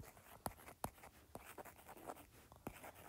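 A pen scratches and taps on a board or tablet while a math lesson is written out, making short sharp strokes at irregular intervals, close and fairly faint, with no speech.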